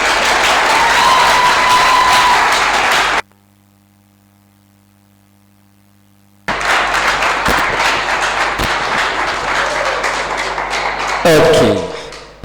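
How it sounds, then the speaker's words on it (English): An audience at a provincial capital markets debate claps loudly, stops to near silence for a few seconds, then claps again with scattered taps and a short burst near the end. "Now that must be the last clap."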